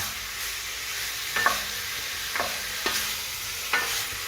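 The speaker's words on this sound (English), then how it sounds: "now the chicken's been frying away for 4 or 5 minutes" Steady frying sizzle of chicken in a little oil in a pan for curry, with a few clinks and scrapes of a utensil stirring at irregular intervals.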